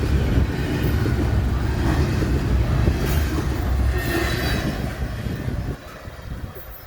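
A train rumbles steadily past on the railway through a Tennessee road crossing, a loud continuous roar with wheel clatter and a faint horn note, easing slightly near the end.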